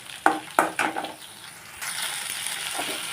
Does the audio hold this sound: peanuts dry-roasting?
yes